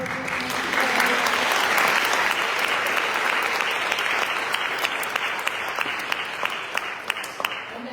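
An audience at a Black History celebration at a community college applauds the program, dense clapping that swells early and then slowly thins into scattered individual claps near the end.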